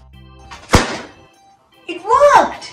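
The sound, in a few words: origami paper popper snapping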